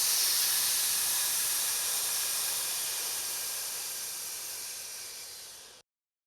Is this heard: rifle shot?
no